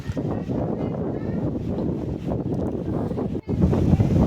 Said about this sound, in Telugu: పైర గాలి అయితే వస్తుంది చాలా హాయిగా ఉంది